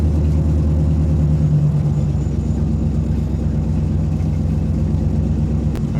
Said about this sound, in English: I definitely need to fix the exhaust this week. It's pretty loud.